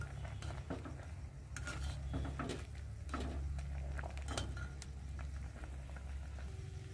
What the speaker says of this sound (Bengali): আমি চামচটা দিয়ে একটু নেড়ে চেড়ে নেব